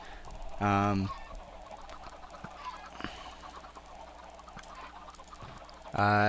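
Chickens in the Minecraft video game cluck in two loud bursts at the start and end, with a busy bed of game noise and clicks in between.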